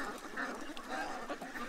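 Ducks at a pond, soft nasal quacks and chatter repeating irregularly over a faint, busy background.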